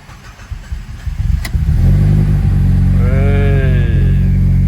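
Alfa Romeo 159 2.2 JTS with a slightly low battery after sitting four days: a brief starter crank, then the engine catches and settles into a loud, steady idle drone up close.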